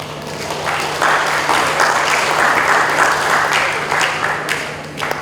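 Crowd applause at a community Christmas gathering in Manokwari, steady and full-bodied clapping from many hands throughout, close and loud, with a low electrical hum beneath and a few sharper claps standing out.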